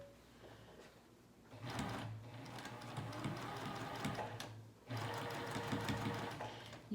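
A sewing machine stitches around an elastic waistband in bursts of steady rapid whirring, quiet and close, with short pauses between runs and light handling noises.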